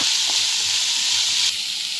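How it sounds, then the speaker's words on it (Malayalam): Onions with a pinch of salt sauté in a pan, giving a steady close sizzle and hiss that runs through and drops slightly near the end. "സവാള കൂടി ഇട്ട് നന്നായി വഴറ്റിയെടുക്കാം."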